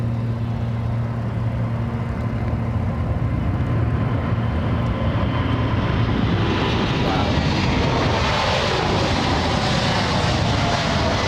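A heavy aircraft on its takeoff run on runway 33 at Anchorage airport, a loud, continuous engine roar that swells and brightens as it builds, with a low hum underneath.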